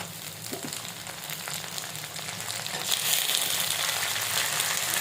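Prawns sizzle and fry with onions in a pan for a Bengali chingri bhuna, a steady close crackle that grows louder and brighter partway through, with no talking.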